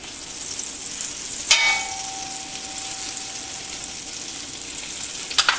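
Olive oil and butter melting together in a hot pan ahead of garlic for linguine with clams, making a soft, even sizzle broken by a utensil clink and a faint ringing tone.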